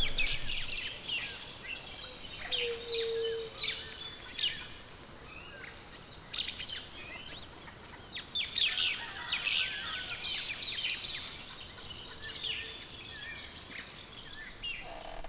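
Birds chirp and call repeatedly in a Mexican jungle in San Luis Potosí, a steady layered chorus of short tweets and trills at moderate distance with faint insect buzz beneath.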